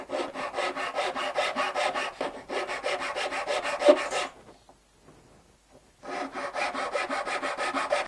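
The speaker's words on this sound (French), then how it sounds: "on fait des petites encoches à l'aide de notre lime sur les marques qu'on vient de faire" A hand file rasps small notches into a wooden stick in quick rhythmic strokes, with two long bursts, a brief pause and then a third burst of scraping.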